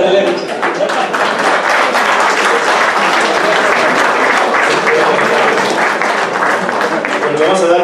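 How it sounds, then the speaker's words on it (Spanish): Dense, loud applause from an audience at a general session lecture on heart and romanticism, a sustained wash of many hands clapping evenly throughout with no talk on top. "lo despedimos con un fuerte aplauso"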